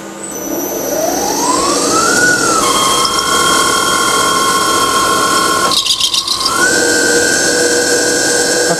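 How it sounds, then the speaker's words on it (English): Sterling Power test rig alternator spinning up under an electrical load, a rising whine that settles into a loud, steady tonal hum with a brief dip and recovery partway, alone without talk. "let's fire up this alternator"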